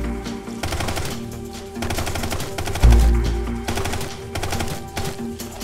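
Rapid automatic gunfire from the Brick Rigs game, fired in short repeated bursts with brief gaps between them, loud and close, with one heavy low-end impact midway.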